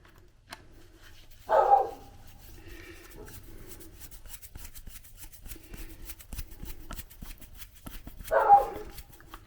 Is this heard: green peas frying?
no